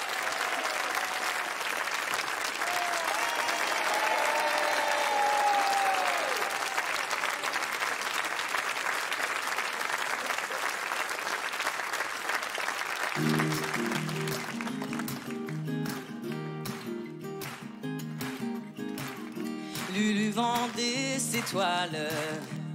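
Large audience applauding a children's group at a big choir concert, dense steady clapping for about thirteen seconds with a few whoops, then music begins over the fading applause.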